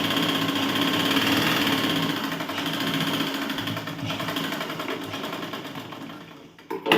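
A sewing machine stitches a tucked blouse with a continuous close mechanical whir, running steadily and easing slightly near the end before a few louder handling knocks, and nobody talks.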